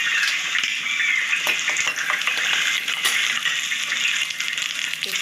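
Ground coconut and garlic sizzle steadily in hot oil in a pan, a continuous crackling fry broken by clinks and scrapes of stirring, close and alone.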